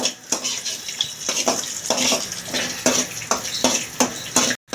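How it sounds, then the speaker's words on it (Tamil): Cashews and raisins frying in ghee in a pan for rava payasam, heard as a steady sizzle with repeated scraping and clinking of a spoon against the pan, loud and close, with no talk. "முந்திரி திராட்சையை போட்டு நல்லா கொஞ்சம் பொன்னிறமாக வறுத்து எடுத்துப்போம்"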